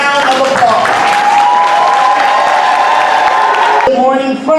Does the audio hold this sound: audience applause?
yes